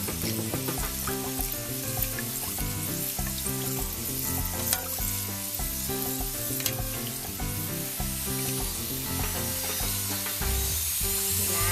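Fry bakes sizzle and crackle in hot oil, a loud, dense frying hiss with constant popping that carries on without a break.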